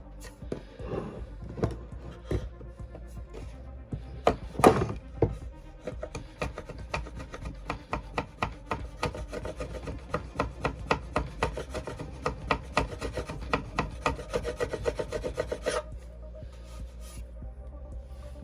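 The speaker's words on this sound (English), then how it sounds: "all you need is just a nice sharp chisel" A sharp chisel pares protruding timber flush on a table saw router bench, heard as close, rapid rasping scrapes that build into a dense, rhythmic run of strokes and then stop near the end, with no talking.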